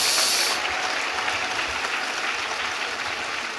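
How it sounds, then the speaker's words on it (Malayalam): A church congregation bursts into loud, dense applause during a sermon, the clapping steady and continuous from start to end. "കൈയടിച്ച് കർത്താവെന്ന് പറഞ്ഞു, കട്ടഴിഞ്ഞ് പോട്ടെ."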